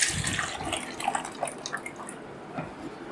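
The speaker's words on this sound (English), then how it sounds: "I will pour back the developer" Photographic developer chemical splashes and trickles for a few seconds as it is poured back from a tray, a quick pour with dripping that tapers off, no voices.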